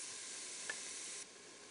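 Onions sautéing in an Instant Pot, giving a faint, steady sizzle and hiss throughout with a small pop partway through, the sound dropping slightly near the end.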